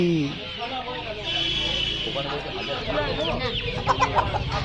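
A native hen clucks close by amid village poultry market noise in Nepalganj, with people talking nearby.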